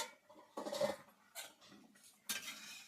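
A lid is lifted off a cooking pot of sour tamarind and small river crab curry in a rural kitchen, making a few light metallic clinks and clatters in separate bursts, close and fairly faint.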